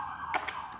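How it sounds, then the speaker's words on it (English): An emergency siren passes by outside, heard as a brief, faint, steady wail in the distance. "As this siren goes by here"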